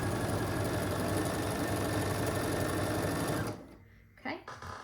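A sewing machine stitching quilt pieces, a fast steady mechanical whir running close and loud for several seconds before stopping, followed by a brief voice.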